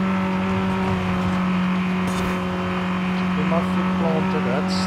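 A 2021 MG6 XPower racing in Forza Horizon 5 gives a steady, loud droning engine note at high speed, with faint tire noise near the end and a voice talking over it.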